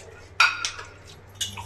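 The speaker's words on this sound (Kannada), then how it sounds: "ನಮ್ಮ ಪಾತ್ರೆ ಬೆಳಗ್ತವ್ರೆ." Pots, pans and cutlery clatter and clink in a home kitchen as dishes are washed, a few sharp knocks separated by short pauses over a low steady hum, fairly close.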